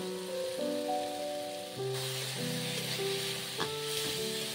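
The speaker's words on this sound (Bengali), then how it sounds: "ভালো করে নেড়ে নেব।" Baby corn coated in chilli paste sizzles steadily in a pan as it is stirred, a continuous frying hiss heard beneath louder background music.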